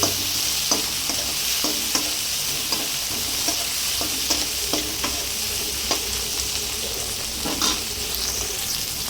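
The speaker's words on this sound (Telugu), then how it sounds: "టమాటో యాడ్ చేసుకొని టమాటో కొంచెం మెత్తగా మగ్గితే సరిపోతుంది అంతే" Tomatoes fry and sizzle in a pan for a Rayalaseema-style breakfast, with a steady bright hiss throughout and repeated clinks and scrapes of a spoon stirring; no one speaks.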